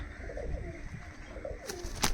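Teddy pigeons cooing in a loft, soft repeated throaty coos rising and falling over a steady background hum, with a brief brighter flutter near the end.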